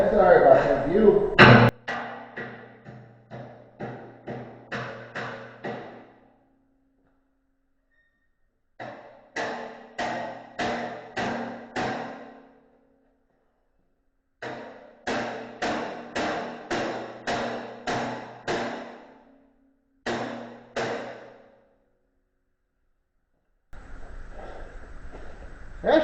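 A pocket hammer knocks parts loose on a snow-plowing tractor during a repair, in sharp metallic strikes. They come in quick rhythmic bursts of several blows, separated by short pauses.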